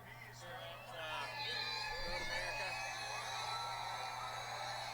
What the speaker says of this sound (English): Hear that crowd.